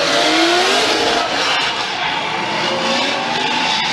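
A Formula Drift car driven by Chris Forsberg roars through a drift with a loud, sustained engine howl and tire squeal that shifts in pitch, under a continuous wash of crowd and track noise.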